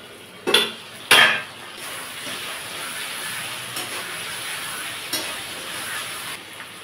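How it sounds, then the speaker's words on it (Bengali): A lid lifted off a pot of chicken curry with two sharp metallic clanks close by, followed by a steady soft hiss and sizzle from the pot and a few faint light knocks. "ঢাকাটা খুলে নেব"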